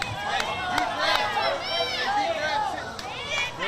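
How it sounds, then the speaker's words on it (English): Crowd murmur and scattered voices, including children, at a youth baseball championship game during a pitch, a steady restless chatter with a few sharp calls and whistling cheers rising over the buzz. "literally feel the tension in the crowd. I can hear it coming through the mic"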